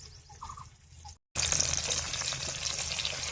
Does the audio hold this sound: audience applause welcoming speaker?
no